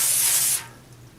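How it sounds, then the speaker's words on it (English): Cooking spray hisses onto a baking pan in one short, loud burst lasting about half a second, then stops, leaving faint room tone. "I just want to give it a very quick spray."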